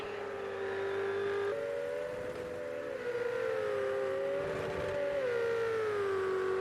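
A Ferrari 488 Challenge race car in Project Cars 2 at Monza, its engine droning steadily and stepping down in pitch on downshifts through a quick bend, loud and continuous.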